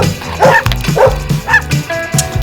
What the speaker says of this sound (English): Our neighbor's dog is so loud, I can't hear anything.